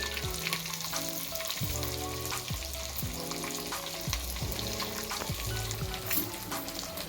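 Chilli, coriander and fenugreek sizzle in hot oil as a tempering for a chole bhature dish, a continuous close frying hiss broken by repeated spoon scrapes and stirring knocks.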